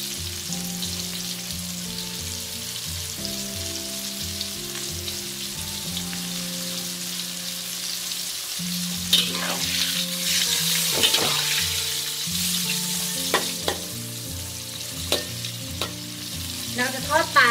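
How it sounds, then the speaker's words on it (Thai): Fish deep-fries in hot oil in a pan over medium-high heat, giving a continuous close crackling sizzle that grows busier partway through, with soft melodic background music underneath. "เมื่อน้ำมันร้อนแล้วเราก็ใส่ปลาลงไปทอดเลยค่ะ"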